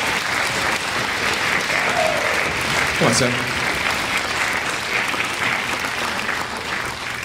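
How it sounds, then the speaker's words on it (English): Loud, continuous audience applause at a school spring concert featuring strings, concert and jazz bands, dense clapping filling the whole clip while someone briefly speaks over it. "I'll give him a round of applause."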